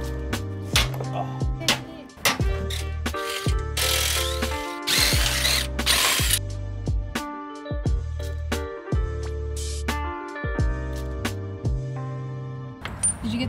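A ratchet works loose the bolts on the sway bar end links of a car fitted with a Hotchkis sway bar, producing repeated bursts of rapid mechanical clicking interrupted by brief pauses, close by and fairly loud.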